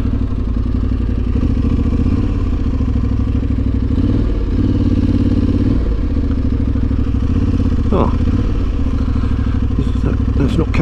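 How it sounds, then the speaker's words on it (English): A motorcycle engine rumbles loud and steady as it pulls up at a moto cafe, with clattering and a few thumps over the idle. "That's not Carol's bike, I don't think"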